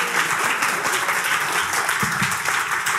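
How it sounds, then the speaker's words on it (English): Sustained applause from an audience at the close of a master class, a dense, even roar of many clapping hands throughout. "just join me in a round of applause for Jumana."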